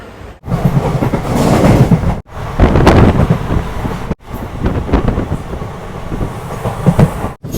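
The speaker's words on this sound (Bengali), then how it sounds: "ট্রেন আমাদের ঢুকছে লামডিং লামডিং ঢুকছে ট্রেন" A passenger train pulls into Lumding station in Assam on the route from Kolkata toward Nagaland, heard from on board. A loud, close rumble and rattle of the rail cars runs throughout, broken by a few brief dropouts.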